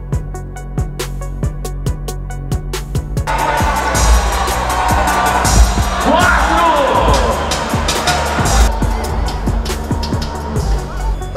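Arena crowd noise at a basketball three-point shooting contest: a steady roar of cheering and babble swells midway, with sharp ball bounces and thuds thumping along underneath throughout.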